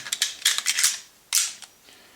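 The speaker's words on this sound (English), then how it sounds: "Put the magazine in," A magazine is pushed into a Smith & Wesson Model 52-1 pistol, giving a few sharp close metallic clicks and a final firm snap as it seats, with no talking.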